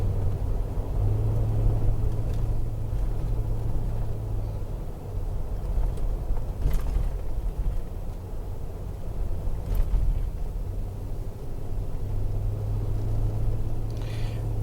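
Car driving up a road toward a clubhouse at Cliffs at Keowee Falls South, with a steady low engine and road rumble heard from inside the cabin and no talking.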